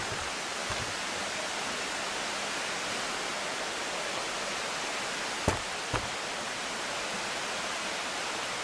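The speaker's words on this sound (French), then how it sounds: "La cascade, là, si je tourne" Steady rushing roar of a waterfall, continuous and even throughout, broken only by a couple of faint knocks.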